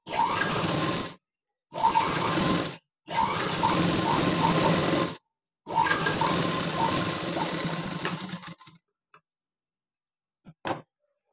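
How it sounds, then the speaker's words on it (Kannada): A sewing machine stitches a blouse lining in four bursts of steady whirring chatter separated by short pauses, and the last run slows and fades before a few faint clicks. "ಲೈನಿಂಗ್ ಮೇಲೆ ನಾವು ಸ್ಟಿಚ್ ಹಾಕೊಳ್ಳಿ"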